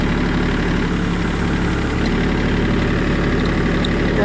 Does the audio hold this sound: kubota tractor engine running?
yes